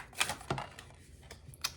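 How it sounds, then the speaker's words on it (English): Tarot cards being shuffled by hand, a handful of close, crisp riffling snaps and soft slaps spaced irregularly over a quiet background. "All right, I'm going to give them a proper shuffle."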